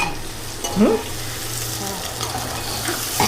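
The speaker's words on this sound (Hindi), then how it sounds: "अब ये देखिए प्याज डाला जा रहा है। अब ये प्याज को पूरा लाल होने तक भूनना है" Chopped onions added to hot oil with asafoetida in a pan for jackfruit curry, sizzling and frying continuously with a brief stirring scrape near the start, close and steady.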